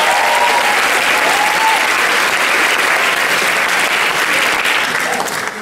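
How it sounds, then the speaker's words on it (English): A live concert audience claps for the sound technician, a steady wash of dense applause that holds loud throughout and tapers slightly at the very end. "Please give him a round of applause."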